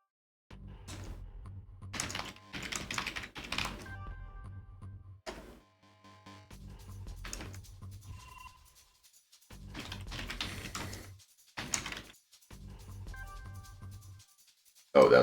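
Bursts of rapid clicky typing on a faulty computer keyboard come close and clear, separated by short silent pauses, with a few scattered single keystrokes between the runs.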